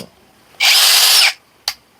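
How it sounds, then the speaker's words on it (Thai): A two-speed 2-in-1 electric drill and driver with a removable head whirs loudly for about a second, then stops; a brief second burst follows shortly after. "ก็เป็นสว่าน แบบเท่ๆปรับได้สองระดับด้วยนะ"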